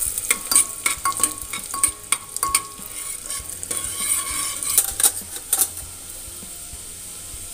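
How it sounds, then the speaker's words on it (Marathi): Long-sliced onion stirred and fried in ghee in a pan until browned, a close, continuous sizzle with repeated scraping and clinking of a spoon against the pan. "आता यामध्ये मी एक लांब चिरलेला कांदा घालते। कांदा आपल्याला छान लाल भाजून घ्यायचा आहे।"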